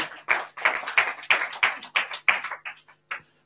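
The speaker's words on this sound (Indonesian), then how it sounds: "tepuk tangan buat Yesus, saudara" A church congregation at a service claps in a sparse, steady rhythm of about a dozen distinct claps that trail off and slow toward the end.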